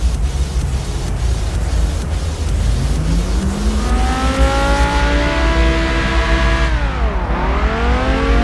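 Lamborghini Huracán Performante with a custom exhaust, engine revving loudly up and down close by, the pitch climbing steadily, holding high, then dipping and rising again with no talking.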